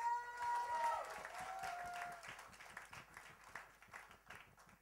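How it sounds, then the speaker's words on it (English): Fairly faint audience applause at a press meet and fashion show during India Luxury Style Week 2015, with a rhythmic clapping pattern and scattered cheers beneath a lingering tone that fades early. "I think this guy deserves another round of applause, please."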